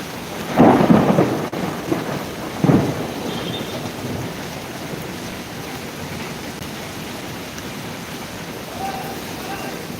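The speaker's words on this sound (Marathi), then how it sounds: "हे काय खूप पाऊस आहे" Heavy rain in Mumbai roars steadily throughout, with a couple of brief louder bursts near the start before the downpour continues evenly.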